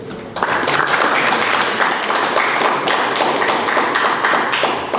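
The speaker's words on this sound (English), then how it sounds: "please give a round of applause for him" A conference audience breaks into steady applause for a speaker, many hands clapping together at a consistent loudness for several seconds.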